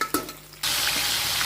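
Fholi fish frying in a pan breaks into a loud, steady sizzle after a brief clatter and stays close and constant to the end.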